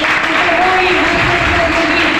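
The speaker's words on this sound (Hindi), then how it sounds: "हम अपने जलाल के बादशाह के लिए जोरदार तालियां बजाएंगे।" Congregation clapping loudly for Jesus at an evangelical church service, a dense steady wash of hands with sustained singing or voices woven through it.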